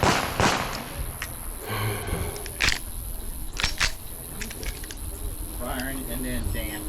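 Staccato P pistol shots at an outdoor USPSA match range, several sharp cracks spaced irregularly across the clip, some loud and close, others fainter, over steady outdoor background noise.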